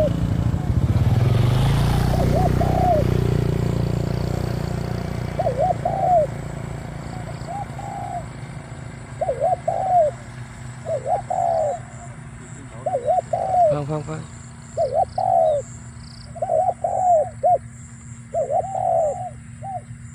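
Doves coo outdoors in a steady series of short repeated calls, close and clear, after a loud engine noise fades out at the start.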